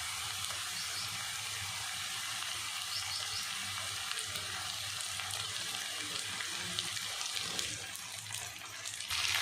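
Ridge gourd pieces, onion and capsicum fry in a pan with a soft, steady hiss of sizzling oil, close but faint and even throughout, with no voices.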